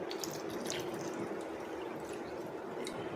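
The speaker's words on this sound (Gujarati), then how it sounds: "હવે આપણે એમાં પાણી નાખી દઈશું" Water trickling and splashing softly onto tamarind and jaggery in a container, a low, continuous pour with small drips, close by and fairly quiet, no talking.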